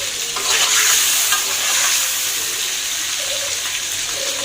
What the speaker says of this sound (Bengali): আগে মাছগুলোই বেজে নিচ্ছি